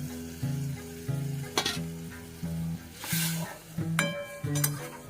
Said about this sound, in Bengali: তো এই জন্য আমি এই যে মশলা ধোয়া জলটা দিয়ে দিলাম